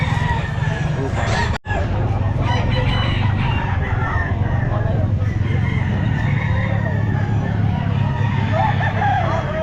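A rooster crows over a constant low rumble of background noise at a pet market, with a brief dropout partway through.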